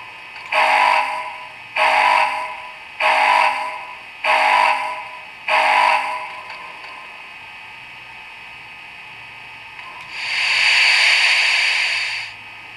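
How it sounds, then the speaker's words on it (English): Five rhythmic, puffing bursts from an Athearn Big Boy model steam locomotive sound system give way to a brief lull, then a long, loud hiss of released steam that swells and fades. "Steam release."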